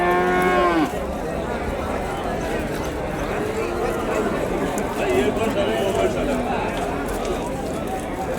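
A cow moos loudly and briefly at a cattle market in Vaniyambadi, followed by a busy crowd murmur, people talking and shuffling livestock in the background.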